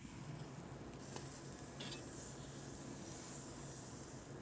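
Frita Cubana burger patties hiss and sizzle steadily on a grill after being flipped, a faint, continuous crackling with no talk.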